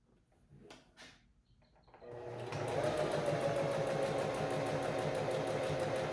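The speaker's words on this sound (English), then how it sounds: "you're going to sew in diagonally from the corner and then start to adjust so that you're sewing in the middle" A sewing machine runs up to speed after a couple of soft handling clicks, then whirs in a steady, fast mechanical rhythm while stitching a dress strap, close and continuous with no talking.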